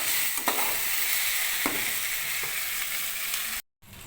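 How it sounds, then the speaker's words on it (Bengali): Potatoes and beans fry steadily with cumin and coriander powder, a continuous close sizzle broken by a few light stirring scrapes and a brief dropout near the end. "এটা দিয়ে এবার মশলাটার সাথে আবারও একটু ভালো করে কষিয়ে নেব।"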